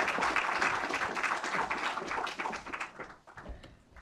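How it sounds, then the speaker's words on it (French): An audience at a talk on platform data applauds the speaker, dense brisk clapping that holds for about three seconds, then thins and fades to a few scattered claps. "on peut l'applaudir."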